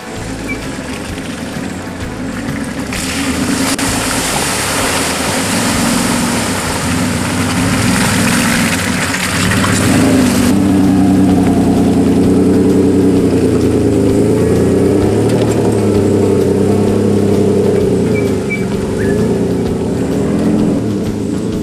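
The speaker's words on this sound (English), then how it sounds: "there's a nice little tree root ledge up here, and I wonder how the Rodeo's going to cope getting up" A Holden Rodeo 4WD labours up a tree root ledge in Toolangi State Forest, its engine droning loud and close as it revs up and strains, the pitch rising and wavering under load.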